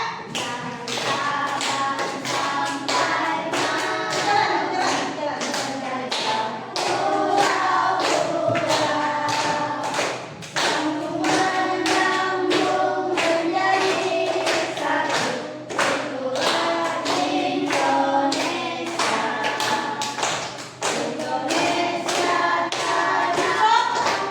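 A group of students claps hands in a steady beat while singing a national song together in a classroom, loud and close, the rhythmic slaps running through the singing for the whole stretch.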